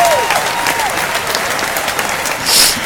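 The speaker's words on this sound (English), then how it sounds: "we'll have a little bit of applause here" A studio audience claps in a steady wash of applause for the whole stretch, loud and close, swelling slightly near the end with a brief whoop or whistle.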